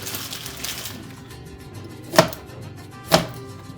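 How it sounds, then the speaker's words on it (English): Two sharp knife chops trim the ends off vegetables for caldo de res on a cutting board, about a second apart, crisp and close against a quiet kitchen background. "Yeah, I'll chop them."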